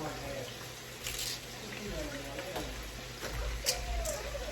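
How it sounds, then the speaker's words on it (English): Water poured from a cereal bowl into a cooking pot, a continuous splashing gush heard close, with a voice talking over it. "just pouring in some water"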